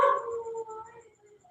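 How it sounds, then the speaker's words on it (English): A dog somewhere in the Philippines gives its early-morning call in the background, a faint, drawn-out howl or whine that trails off, heard alone without talk. "Can you hear the dog in the background?"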